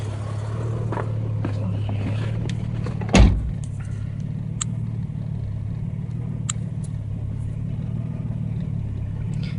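A 1989 Jeep Cherokee engine idles just after an overhaul with new headers, a steady low rumble close by, broken by a single brief thump early on.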